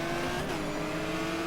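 Race cars roar through a lap in the GTR 2 racing game, a Porsche bouncing over a curb among lapped traffic, with a steady, dense engine drone held loud and close throughout.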